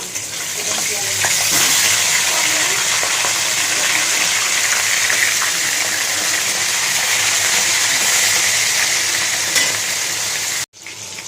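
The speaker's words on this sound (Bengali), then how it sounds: "এবার আমি মাছগুলো ভেজে নেব।" Fish frying in hot oil in a kadai, a steady loud crackling sizzle that holds evenly for about ten seconds before a brief cut near the end.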